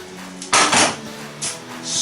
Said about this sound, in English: I've strained the spaghetti, so I'm now going to just toss the spaghetti into